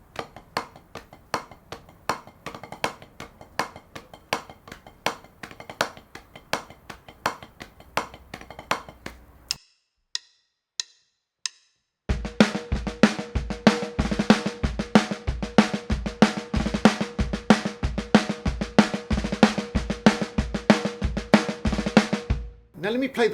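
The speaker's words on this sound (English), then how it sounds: "we're going to double up and sort of buzz them" Snare drum played in a skiffle pattern with buzzed double-stroke rolls: a sparse, quieter passage of crisp hits, a brief pause, then a louder, faster run of steady buzzing strokes up close.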